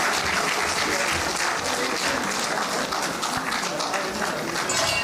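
Sustained applause from the audience at the 4th World Madiga Day afternoon session, a thick continuous patter of many hands with murmuring voices mixed in, holding steady throughout.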